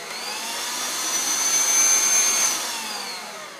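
A stand mixer kneading soft pretzel dough at a higher speed, a loud steady whirring motor drone that swells slightly mid-way and then eases, with no talking.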